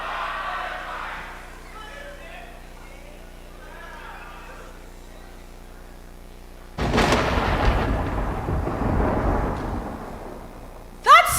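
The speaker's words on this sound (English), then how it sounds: "Sounds like a storm." Loud rumbling thunder of a thunderstorm, heavy and broadband, breaks in after a quiet stretch of faint background voices and rolls on for several seconds, ending in a sharp crack.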